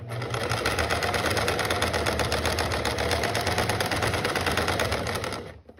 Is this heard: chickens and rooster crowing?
no